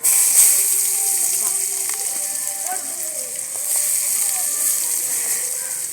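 Onions go into hot oil with mustard seeds and sizzle with a steady, bright hiss throughout, while a person keeps talking over it.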